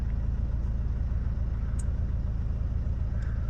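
A 2008 Mercedes Vito van engine, started with a newly added key, idles with a steady low rumble and a couple of faint clicks over the top.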